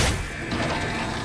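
A mechanical weapon reload in the AW Exo Zombies video game, a loud dense clatter of metallic clicks and ratcheting over about a second, with no speech.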